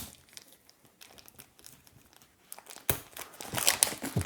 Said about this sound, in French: on prend notre plus beau couteau et on met une saignée à la boîte.